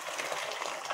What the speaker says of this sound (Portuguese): E aqui eu já vou estar jogando nossa água fervendo.